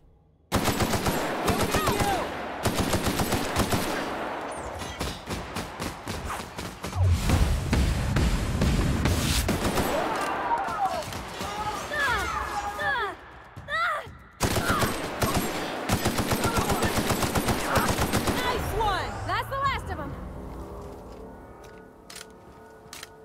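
Sustained bursts of automatic gunfire in The Outer Worlds video game, dense rapid rattling shots with brief pauses, loud throughout and fading out at the end, mixed with other game effects.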